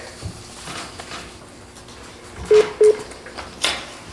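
At a municipal council meeting, a caller joining by phone produces two short electronic beeps in quick succession, clear but modest against quiet room noise and faint background rustling.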